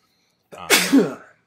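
A single loud, close sneeze bursts out with a sharp intake and explosive release lasting under a second, heard alone against silence during a casual gaming podcast conversation.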